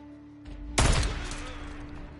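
Gunfire from the open-world zombie game Days Gone: a single loud, close blast that bursts in suddenly and rings out into a decaying rumble over low background hum.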